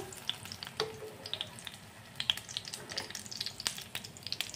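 Aloo bora potato fritters sizzle steadily in hot oil, with a dense crackling bubble and occasional sharper pops close by, continuous and alone without talk.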